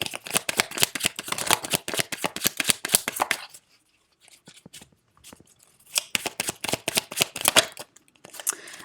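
Tarot cards are shuffled in quick rapid riffles, a close, crisp flutter of card edges that pauses briefly and then resumes.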